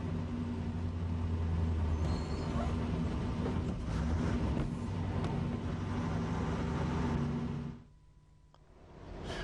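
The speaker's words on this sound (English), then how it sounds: "When you're slowing down like this, always brake first to get down to the right speed and then change gear." HGV goods vehicle braking as it slows, a loud cab-level rumble of engine and road noise that rolls on for several seconds, then briefly drops away near the end as if during a gear change before returning.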